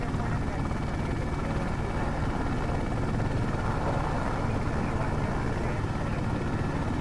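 A helicopter on a tour over Los Angeles rail lines, climbing toward the Anaheim Hills; a steady, loud rotor and engine roar fills the cabin without letting up.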